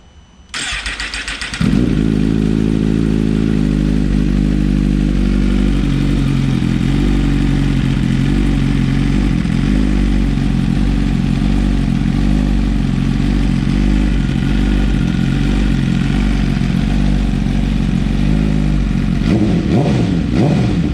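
A 2021 Suzuki GSX-R1000 motorcycle with a full M4 exhaust starts with a brief crank, then settles into a loud, close idle with repeated revs rising and falling, a sharper blip near the end.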